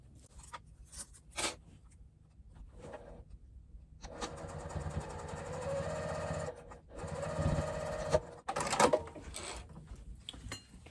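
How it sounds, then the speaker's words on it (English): A sewing machine topstitches across the seam of a Brandy crossbody bag, its motor whirring in short bursts and one longer steady run, close and fairly loud, with pauses between stitching passes. "we top stitch across that seam, not over top of the straps"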